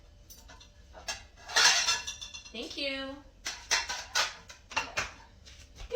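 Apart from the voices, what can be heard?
dishes and cutlery clinking while loading a kitchen dishwasher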